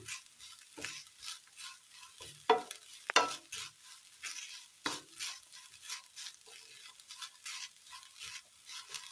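Chopped shallots sauté for a curry in a pan, giving a faint hiss with intermittent scrapes and sharp clicks from stirring, quiet and close with no voices.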